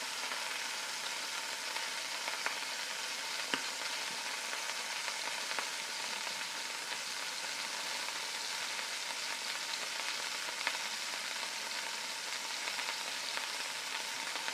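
Scallops searing in a hot pan give a steady, even sizzle that holds for the whole stretch, close and moderately loud, with a few faint clicks and no talking.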